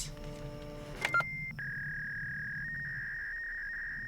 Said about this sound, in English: love that dial-up sound